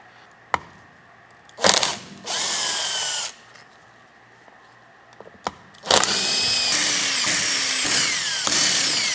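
A power drill removes T27 bolts from a Land Rover LR3 6HP26 transmission, with several whirring bursts of varying length separated by quiet gaps and small clicks and clanks, ending in a long sustained run.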